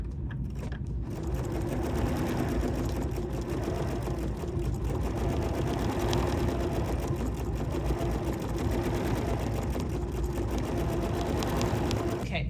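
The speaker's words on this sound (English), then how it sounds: "let's just go ahead and get started with stitching this design" B 990 sewing machine stitching an edge-to-edge quilting design on foam, a continuous rapid mechanical whir that holds steady throughout at moderate level.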